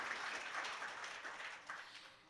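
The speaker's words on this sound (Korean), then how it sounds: "큰 박수로 환영해 주시기 바랍니다" An awards-ceremony audience at an open-source software event gives warm, sustained applause for a presenter, a dense wash of clapping that gradually fades over a couple of seconds.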